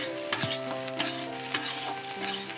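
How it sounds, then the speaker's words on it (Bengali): Sliced onions frying in a pan until browned for a Bengali motor ghugni snack, a steady crackling sizzle with a few sharp scraping stirs of a spoon against the pan, close and fairly loud, no talking. "লাল করে ভেজে নেওয়া পর্যন্ত ওয়েট করে নেব পেঁয়াজগুলো লাল হয়ে এসছে"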